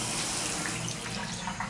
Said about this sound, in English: In fact, I'll turn on the hot water here too.